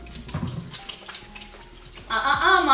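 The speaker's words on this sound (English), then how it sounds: "can I wash my hands? I'm all sticky." Tap water runs into a kitchen sink as someone washes sticky hands while cooking. Kitchen clatter comes first, then a loud, steady gush of running water starts partway through.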